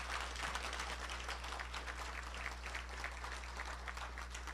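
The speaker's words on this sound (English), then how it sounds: "if I could have a round of applause for our briefers" An audience at a family member update meeting in San Jose claps for the briefers, a dense, even patter of many hands heard faintly over a strong low hum throughout.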